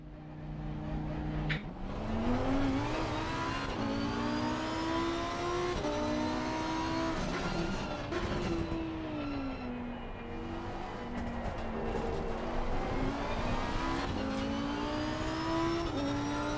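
A BMW race car's engine in a racing video game revs continuously, its tone rising and dipping through repeated gear changes, loud and sustained throughout.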